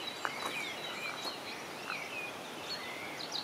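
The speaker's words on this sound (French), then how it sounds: "les oiseaux, ils en mettent un bon coup." Birds call and chirp outdoors in a quiet natural setting, with faint scattered whistles and calls over a soft ambient background; no rooster crow is clearly evident.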